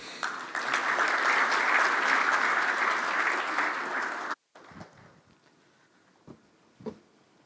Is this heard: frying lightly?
no